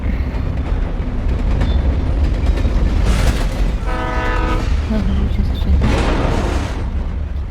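A train passes in the video game Alan Wake Remastered, a loud, continuous rumble of wheels on rails with a sustained horn blast in the middle, close and dominant, with faint talk underneath.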